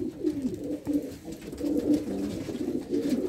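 Pigeons cooing softly and repeatedly at close range, low throaty calls in loose bursts over a quiet outdoor background.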